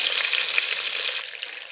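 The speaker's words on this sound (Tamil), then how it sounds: "இதுவும் நல்லா பொரிஞ்சிடுது" Spices and chopped medium tomatoes frying in hot oil for paneer biryani, giving a steady bright sizzle and crackle close up that drops noticeably quieter partway through.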